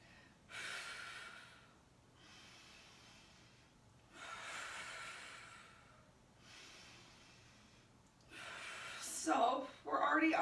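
Slow, steady yoga breathing, with four long drawn breaths in and out close to the mic and a sharper breath or noise at the end.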